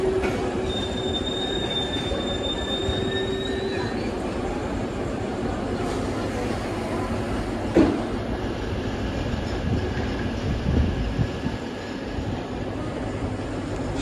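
A train moves through Bucharest Nord station with its wheels squealing in long high tones over a steady rumble of rolling stock, with a brief louder clank partway through and no talk.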